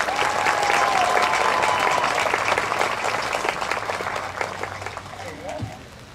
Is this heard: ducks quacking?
no